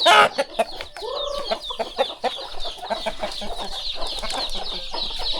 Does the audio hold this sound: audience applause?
no